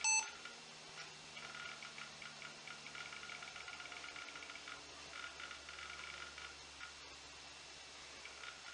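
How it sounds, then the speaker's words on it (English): A quiet, steady electronic whir with faint clicking and ticking from the hard drive of a Toshiba Libretto laptop, close by and otherwise silent. "the only noise that you hear, and there's quite a bit of it, is from the hard drive"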